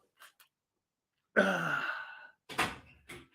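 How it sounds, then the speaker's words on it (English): A lift door at home shut with a single solid thud and short rumbling slide, followed by a quieter knock; brief muffled speech before and after. "Just shut my lift door."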